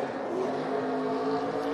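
A race car roars through a burnout and donuts at Phoenix Raceway, its engine a steady, loud, sustained drone with no breaks and no talk over it.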